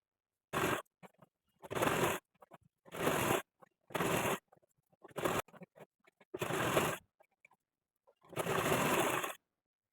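A sewing machine stitches a double-folded fabric edge of a petticoat in straight lines, with about seven short bursts of rapid, close whirring separated by brief pauses.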